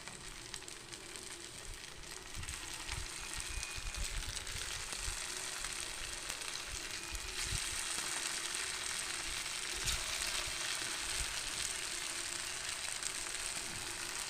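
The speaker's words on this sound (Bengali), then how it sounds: "এবার সবগুলো আস্তে আস্তে ভেজে নেব" Poha balls made from flattened rice fry in oil in a pan over a lowered flame, producing a steady, close sizzle with bubbling crackle that holds throughout and grows slightly fuller partway through.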